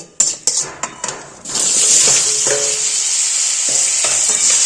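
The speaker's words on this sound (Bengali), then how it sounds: "ভালো মতো লাল লাল করে ভেজে নেব" Potato, drumstick and raw banana frying in a pan: a few sharp clinks of a spoon stirring against metal, then a loud, continuous sizzle close up with occasional scrapes underneath.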